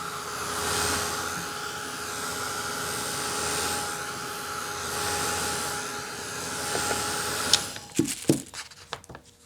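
A heat tool blows a steady, loud whoosh over wet paint on a mixed media art journal page, running continuously for several seconds before cutting off, followed by a few sharp knocks and handling clatters.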